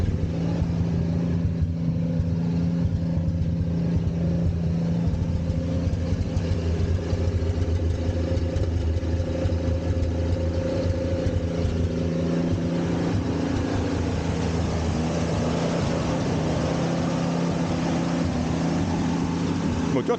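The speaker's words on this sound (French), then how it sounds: "Le moteur tourne bien. Le ralenti est trop haut par contre." A 1965 Ford Mustang engine idling too high, a steady low rumble with a constant drone and no revving changes, close and continuous throughout with some faint background noise.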